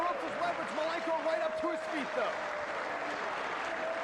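Wrestling crowd at a 1995 ECW television event applauding steadily in an arena, a dense wash of clapping under continuous commentary from voices talking over it.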